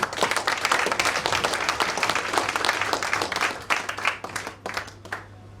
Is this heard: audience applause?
yes